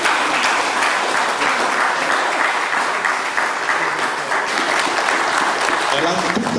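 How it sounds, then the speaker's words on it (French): A crowd applauds a minister at a book launch on insurance in the Democratic Republic of Congo with loud, continuous, dense clapping that stays steady throughout. "On peut applaudir Madame la ministre."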